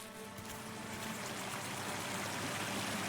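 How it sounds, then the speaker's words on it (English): Steady, continuous rush of a flowing river in the video game Deep Sleep: Labyrinth of the Forsaken, a broad even wash of water noise holding constant throughout with no talk. "Ooh, a river."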